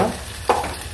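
Green chillies fry in a pan for carrot fry, a soft steady sizzle with one brief stirring scrape partway through and no voices.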